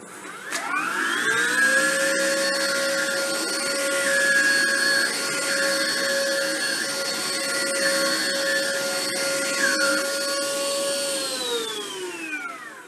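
A Hoover ONEPWR Evolve cordless vacuum switched on in carpet mode, spinning up to a steady loud whine with a bright motor hum that holds for several seconds, then winds down at the end.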